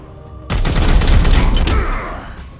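Heavy gunfire from a Warhammer 40k: Chaos Gate - Daemonhunters battle, a sudden loud burst of rapid shots and rumbling blast lasting over a second, then fading, no talk.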